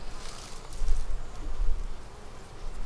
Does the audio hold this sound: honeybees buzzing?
yes